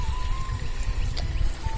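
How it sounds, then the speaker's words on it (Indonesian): Water trickles and flows steadily outdoors in front of a house, with a continuous low gurgling rush at moderate loudness and no one speaking. "air mengalir tuh"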